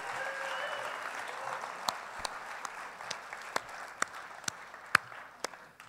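A concert audience at the 2016 Folk Alliance International Awards Show applauds a folk band, a soft, distant wash of clapping with a few crisp individual claps standing out as it fades.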